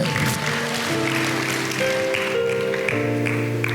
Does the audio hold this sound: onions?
no